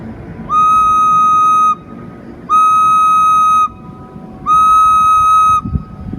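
A wind instrument with a shortened vibrating air column sounds three loud, sustained, steady high-pitched notes of about a second each, separated by brief pauses, with no talking.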